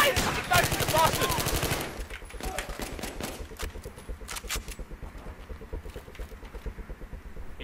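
Gunshots in Battlefield 3 co-op ring out as a loud burst, then give way to a steady run of rapid, evenly spaced rounds, with players talking during the firing.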